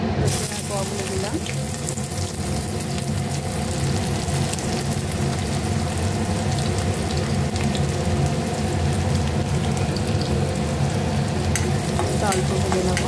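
Garlic cloves fry in hot oil in a pan for a mashed potato bharta, a dense, constant crackling sizzle that holds steady and loud throughout, with no talking.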